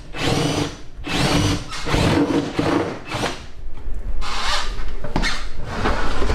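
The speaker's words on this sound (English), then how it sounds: "So this is involving drilling holes in our cabinets." A power drill whirs in several loud bursts with brief pauses between, boring holes into wooden cabinets close by, with a few knocks and clatters near the end.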